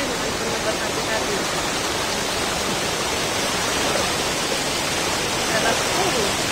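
A river's water rushes in a steady, loud, broadband wash during a crossing in a rural village area, a constant flowing roar with no break.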